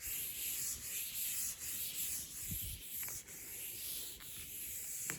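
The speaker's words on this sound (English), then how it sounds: "I used to love volunteering to clean the chalkboard." A chalkboard being wiped clean, a steady dry rubbing and scrubbing sound with a continuous hiss and a few faint scrapes, close and even throughout.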